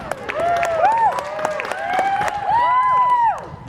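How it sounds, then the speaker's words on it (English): A stand-up comedy audience applauds and cheers, with rising and falling whoops and whistles over steady clapping. The crowd noise stays loud for nearly four seconds before easing off. "Don't applaud me for that."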